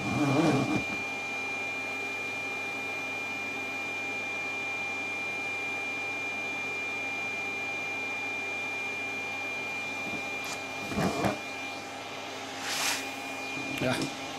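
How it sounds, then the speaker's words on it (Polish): A large vacuum cleaner picks up excess sand on a model railway diorama, giving a steady, loud drone with a high whine that runs throughout, broken by a few short knocks and bumps. "No, nadmiar tego muszę zebrać, to odkurzaczem nie tym od trawy,"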